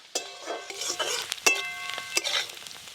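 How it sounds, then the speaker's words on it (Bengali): Chopped onions and whole cumin fry lightly in hot oil in a pan as a spoon stirs them, giving soft sizzling under clinks and scrapes of utensil against metal, close and moderately loud. "পেঁয়াজগুলো কিন্তু আমি একদম হালকা করে ভাজবো, খুব বেশি লাল লাল করে ভাজবো না।"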